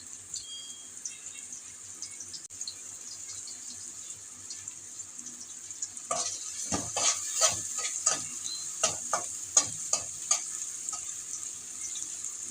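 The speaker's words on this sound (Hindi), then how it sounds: "प्याज को मैं लाइट गोल्डन कर लूँगी, बस इतना करूँगी कि इसका कलर जो है वो चेंज हो जाए" Onions fry in a pan while being cooked to a light golden colour for masala bhindi, with steady soft sizzling. Midway, a run of rhythmic scraping stirs cuts through the sizzle, fairly close and with no talking.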